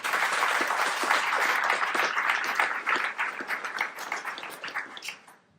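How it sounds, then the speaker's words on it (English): Steady, dense applause from an audience, sustained for several seconds before thinning out and fading at the end. "big round of applause for these people who are working together"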